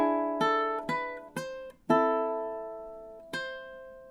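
Ukulele plucking measure 10 of the Luigi's Mansion main theme, a short sequence of about six notes and chords with clear attacks and ringing decay, close and solo without voices.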